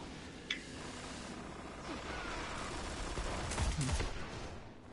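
Rapid gunfire and weapon blasts from Destiny: Rise of Iron during an Iron Banner multiplayer match, including the Golden Gun super, forming a dense, continuous barrage with a few sharper shots standing out.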